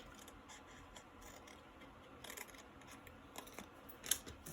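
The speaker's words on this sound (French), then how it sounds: "je vais le découper comme ceci" Scissors snipping through paper card for a scrapbooking project, a run of soft, close crisp cuts and scratchy rustles with one sharper snip near the end, quiet and without voices.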